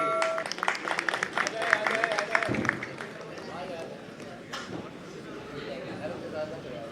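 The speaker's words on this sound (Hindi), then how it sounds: "आपकी भरपूर तालियों में तशरीफ लाते हैं नहरीर जावेद" Audience at a poetry gathering applauding as poet Nehreer Javed is welcomed: dense clapping fills the first few seconds, then fades into a murmur of voices and stray claps.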